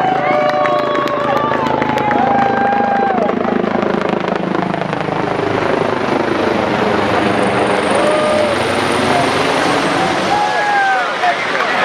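A state police helicopter passes overhead at a community event in Milltown, its rotor drone loud and steady throughout, with crowd noise and voices mixed underneath.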